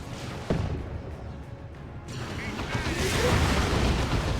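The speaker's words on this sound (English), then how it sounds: "Speaking of big explosions, that's what the Stormblade can do." Stormblade super-heavy tank in the Warhammer 40,000: Dawn of War 2 strategy game firing its main gun, a sharp blast followed by rumbling explosions and mechanical clatter that build into a sustained roar of battle effects.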